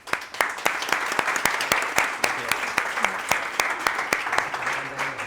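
Audience at a conference applauding Paco García of Calma Eladio, dense steady clapping from a crowd with sharp individual claps standing out near the microphone, a few voices murmuring underneath.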